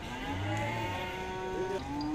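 A Simmental cow bought at a livestock market moos in a long, low, drawn-out call with steady harmonic tone, close and clear, with no talking.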